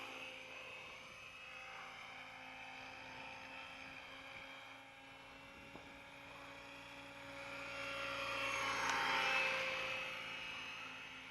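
Trex 700 Bell Jet Ranger RC model helicopter flying in to land, a steady distant rotor and turbine-like whine with faint tonal hum that swells louder toward the end, with no talking.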